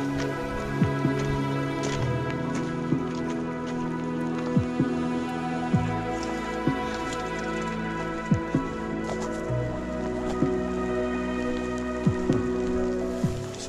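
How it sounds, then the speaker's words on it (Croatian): Rain patters steadily on a mountain hike near the Veliki Movran waterfall on Čvrsnica, a dense continuous drizzle with scattered sharper drop hits close by and a low steady hum underneath. "Još više pojača kiša."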